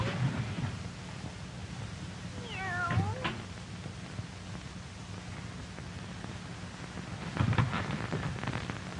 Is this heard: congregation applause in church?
no